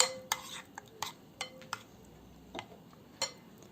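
A utensil scraping and clinking against a bowl while thick strained and plain yogurt is stirred, with irregular sharp taps over soft mixing sounds, close by.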